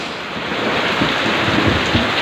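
Heavy rain pours down in Quezon City, a loud, dense and continuous hiss with low rumbling underneath and no voices.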